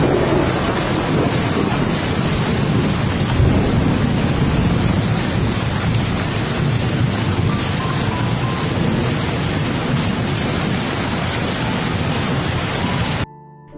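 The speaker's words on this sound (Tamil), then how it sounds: "காணாமல் போன 8 சுற்றுலா பயணிகளை தேடும் பணி பலத்த மழையால் தாமதமாகி வரும் நிலையில்" Heavy rain pours steadily during a thunderstorm in flooded northeastern India, a dense, continuous roar of close rainfall with low rumbling underneath, loud and unbroken before cutting off at the end.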